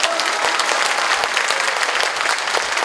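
Audience applause after a lecture by former Prime Minister Chung Sye-kyun at a Democratic Party event in Jungnang, steady dense clapping from a crowd filling the room without a break.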